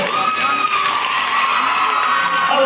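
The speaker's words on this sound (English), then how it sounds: "The applause continues till she's here." Audience applause and cheering at a magic show, a steady, close wash of clapping with shouts and whoops running the full stretch at high level.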